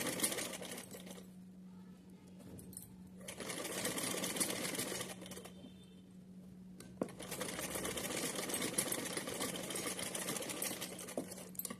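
A sewing machine stitches lace onto a cotton summer dress, its steady mechanical whir running in bursts with brief pauses between runs, close and fairly loud throughout.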